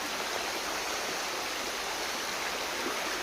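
A shallow forest stream flows in a dense, unbroken hiss, close and steady throughout with no voices.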